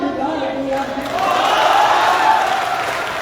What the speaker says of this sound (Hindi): मुझे तेज तालियां चाहिए